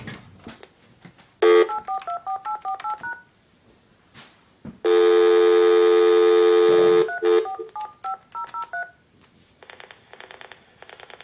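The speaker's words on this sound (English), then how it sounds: "fake dial pulsing to my switch." Telephone tones from a Northern Electric 233QF three-slot payphone wired to a 207C step switch: short bursts of tone pulsing, a long steady tone, then more clipped pulse sequences, loud and close with no talk.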